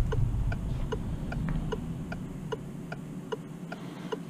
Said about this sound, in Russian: интересный аналоговый звук у поворотника, приятный, здесь какая-то густота, в общем, теплый ламповый звук